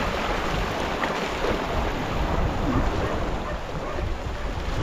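Ocean waves wash on a slippery shore in a steady, roaring surge, with gusts of wind buffeting the microphone; no one speaks.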